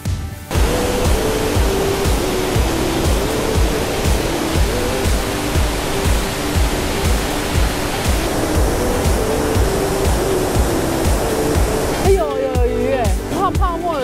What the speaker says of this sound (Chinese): 到达上层瀑布了